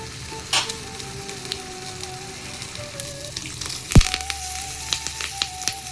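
Curry leaves and dry red chillies drop into hot oil for a South Indian tempering and crackle in a steady, close sizzle. A sharp burst near the middle is followed by continued spattering, with a faint tonal hum behind and no voices.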